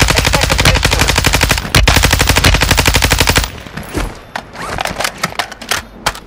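Rapid automatic gunfire in a battle royale video game on the Vondel Resurgence map, a loud, fast continuous stream of shots, then scattered single and clustered shots with reverberation.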